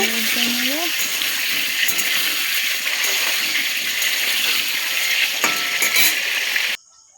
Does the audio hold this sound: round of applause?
no